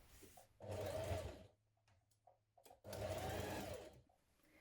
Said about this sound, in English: So stitch these seams in place now